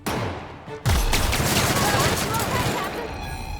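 Gunfire aimed at a sentry in the video game Peril on Gorgon: a short loud blast, then a sustained dense burst of shots and crackling that continues to the end, alongside a voice.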